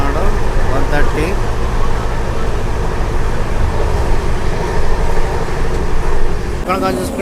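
Telangana Express passenger train running at about 130 km/h, a steady loud rumble and rattle of carriages from inside, continuous throughout with a brief squealing rise near the end.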